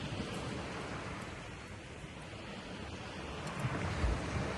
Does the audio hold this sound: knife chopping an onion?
no